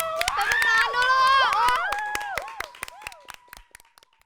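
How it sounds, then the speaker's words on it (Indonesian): Scattered hand claps ring out in a school podcast setting, sharp and separate at first, then thinning to a few isolated claps, while a voice with rising, sung or exclaimed tones carries over them through the middle. "Wow, tepuk tangan dong. Tepuk tangan dulu."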